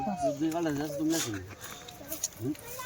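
Kathiawari goats in a shed bleat in a wavering, quavering call near at hand, followed by a shorter bleat, with someone talking over and between them.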